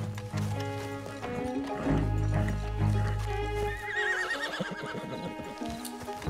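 A horse neighs loudly over clopping hooves and a layered game soundtrack in Red Dead Redemption 2, with a second whinny trailing off toward the end.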